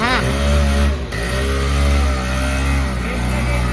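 A motor vehicle engine starts and runs loudly up close, shifting from a revving start into a steady rumbling drone, while people talk over it.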